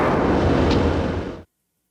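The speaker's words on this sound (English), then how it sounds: "and now it sounds like an explosion." A game explosion effect built from a stretched, pitched-down gunshot with added bass: one loud, deep, sustained rumbling blast that holds steady, then cuts off abruptly into silence.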